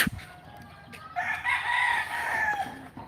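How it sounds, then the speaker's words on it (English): Fighting roosters kept by a neighbor crow loudly and steadily for about two seconds, with brief clucks from nearby fowl at the start, outdoors in the Philippines and without talk. "The neighbor here raises fighting roosters."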